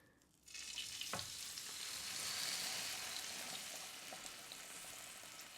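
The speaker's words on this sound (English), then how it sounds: "Some nice sizzle action going on." LA galbi beef short ribs sizzle steadily on an oiled griddle, a loud, continuous frying hiss that starts right after a brief quiet moment and holds throughout, with a faint clunk as meat is placed.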